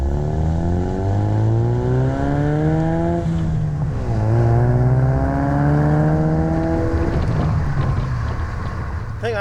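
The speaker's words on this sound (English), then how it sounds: "But when you get on it, you do hear it more. Like I said, it is most definitely deeper than the factory exhaust." A Ford Mustang with an Accelatec 2.25-inch axle-back exhaust revs repeatedly nearby, its deep exhaust note rising and falling in several sweeping pulls that stay loud throughout.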